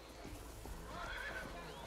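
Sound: horse neighing in the video game ARA History Untold

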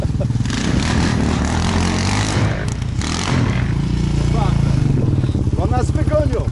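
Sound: motorcycle engine revving

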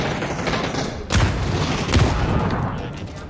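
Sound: grenade explosions and gunfire in video game PUBG

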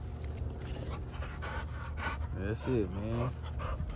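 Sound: dog panting

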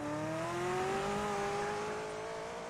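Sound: car noise

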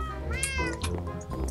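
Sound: cat meowing in Minecraft video game

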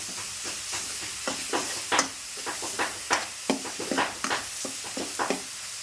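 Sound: cluster beans curry frying in oil

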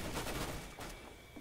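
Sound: gunfire in the video game CS:GO

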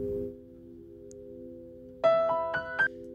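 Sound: piano sample

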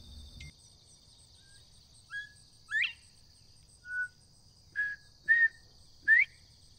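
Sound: bird calling outdoors, likely wild turkey

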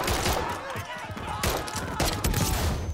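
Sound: gunshots hitting the player in Modern Warfare III video game

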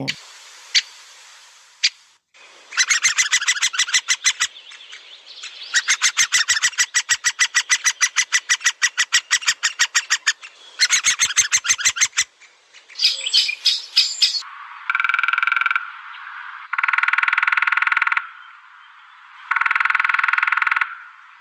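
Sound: woodpecker call

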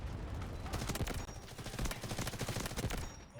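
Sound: gunfire from the video game Delta Force

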